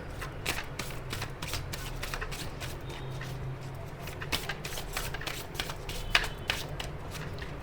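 A Moonology oracle card deck is shuffled by hand in a quiet room, giving a soft, steady run of close riffling and slapping card sounds with sharper flicks scattered throughout.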